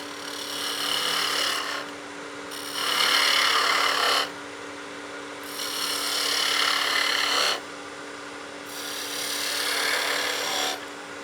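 Skew chisel cutting a V-groove into wood spinning on a lathe: four bursts of bright scraping and shaving, each about two seconds, separated by short pauses where only the lathe's steady hum remains.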